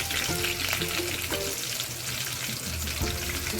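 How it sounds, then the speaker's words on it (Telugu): Green chilies, curry leaves and turmeric fry in hot oil in a pan for an egg and tomato curry, giving a loud, constant sizzle with a few soft knocks of stirring near the start and end. "అవి కొంచెం వేగిన తర్వాత పచ్చిమిర్చి, కరివేపాకు వేయాలి"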